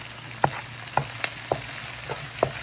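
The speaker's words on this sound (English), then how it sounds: "I want to toast everything up, including the onions with the annatto" Onions with annatto toasting in oil in a pan, a constant sizzle broken by about six evenly spaced spatula scrapes or taps.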